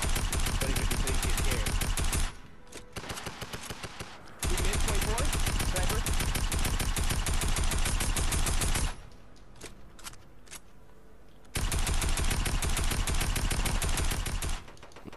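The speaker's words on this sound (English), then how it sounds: "He tried to shoot you." Rapid automatic gunfire rattles out in long, dense bursts in a Fortnite-style shooter game, loud and close. The bursts are separated by short gaps, and players talk in between.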